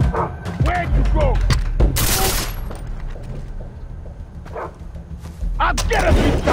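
A dog barks repeatedly in the jungle shooter video game Far Cry 3, sharp yips mixed with gunfire bursts and a player talking over the action.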